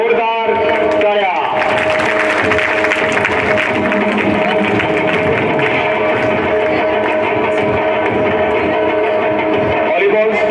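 Sustained loud applause from a school prize-giving crowd, dense steady clapping filling the hall, with a voice and some tonal background sound running underneath.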